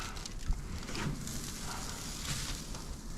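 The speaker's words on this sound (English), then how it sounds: "I'm gonna get the salmon on so it can start steaming." Salmon going onto a charcoal grill over weak coals, giving a steady, close sizzle and crackle that runs evenly throughout with no talk over it.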